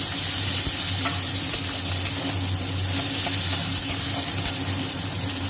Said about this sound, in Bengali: এগুলোকেও ভাজবো দিয়ে দিচ্ছি ডিম নেড়ে দিচ্ছি একটু